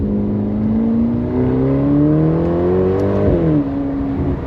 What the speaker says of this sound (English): There's nice exhaust cracks